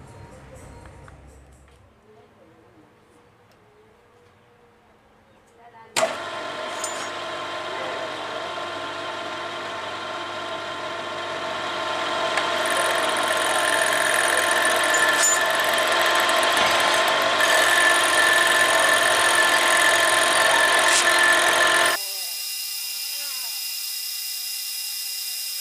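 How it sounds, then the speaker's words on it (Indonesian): A lathe turns a motorcycle piston head from a Honda CB 150. After a quiet start, a loud, steady high-pitched machining whine runs from about six seconds and continues until near the end. "Jadi selanjutnya saya akan melakukan pembubutan dulu"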